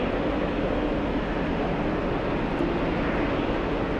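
An Aer Lingus A330 airliner on short final approach makes a steady, distant low roar, a continuous broadband rumble that holds even across the whole stretch with no voices.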